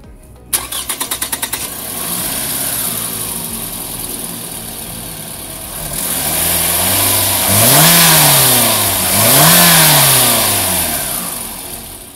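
A Toyota Estima's 2.4-litre 2AZ-FE four-cylinder engine cranks briefly with rapid starter clatter, catches and settles into a steady idle, then revs up twice in rising and falling sweeps, loud and close with no talking.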